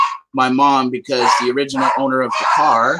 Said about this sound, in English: Excuse the barking.